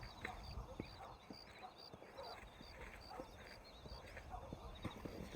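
Horse hooves clip-clopping in the video game Red Dead Redemption, a quiet, steady walking rhythm of soft hoofbeats over faint outdoor ambience.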